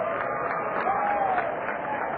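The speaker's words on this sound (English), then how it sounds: "the crowd is giving our bat boy a hand for hustling out there and getting a foul tip" A minor-league baseball crowd at a Kane County Cougars versus Cedar Rapids Kernels game claps for the bat boy, producing a steady, diffuse wash of applause that sounds distant.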